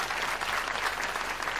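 A brief, steady wash of audience applause in a comedy show hall, dense clapping from a crowd lasting under two seconds.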